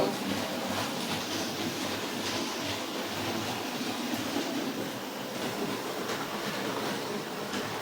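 A Hornby model train set rumbles steadily along its track, a continuous clattering roll with faint rhythmic clicks, fairly close and with no voices.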